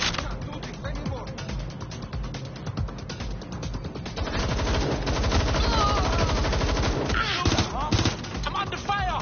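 Gunfire in the Watch Dogs Legion video game, dense bursts of automatic shots that grow louder and busier midway, mixed with clattering mechanical sounds and game voices.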